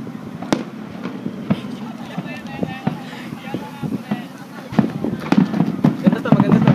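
Fireworks burst at the Tamagawa fireworks festival in Japan. Sharp, booming cracks pop out over a windy outdoor background, with people chatting nearby throughout.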